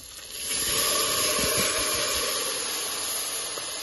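Rice hits hot ghee with cumin seeds and green chili for jeera rice, bursting into a loud, close sizzling hiss that swells within half a second, then holds steady and eases slightly.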